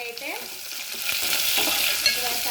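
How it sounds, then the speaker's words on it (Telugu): Gongura chicken curry with cashews fries in a pan with a steady, close sizzle, while a utensil stirs and scrapes the pieces in irregular strokes. No one speaks. "ఇంక ఇప్పుడైతే ఫ్రై"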